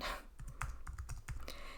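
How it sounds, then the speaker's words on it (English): Quick, close clicks of a computer keyboard as someone types a new recipe entry, with uneven bursts of keystrokes and no voices. "then you would just start typing"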